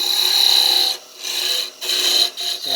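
A skew chisel, used like a scraper, cuts wood on a lathe to shape a turned hat. It gives a close, steady whirring scrape in several short passes, with brief pauses between them.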